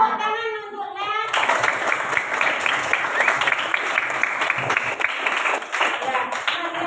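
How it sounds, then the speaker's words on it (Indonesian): A classroom of children bursts into lively, sustained applause for a classmate, a dense clatter of many small hands that follows a brief spoken voice and continues steadily to the end. "Tepuk tangan untuk Les."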